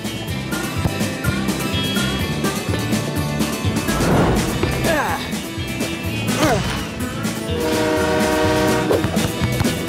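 Cartoon train rushing past in an animated football series, with a horn tooting over busy music and effects, loud throughout and rising near the middle and toward the end, with voices and crash effects mixed in.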